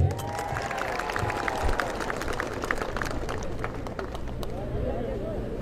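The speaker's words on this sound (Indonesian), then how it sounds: "Tepuk tangan untuk dia" Staff at a morning assembly in Sorong Regency clap for a speaker, a spread of scattered handclaps from the gathered crowd, with murmuring voices underneath.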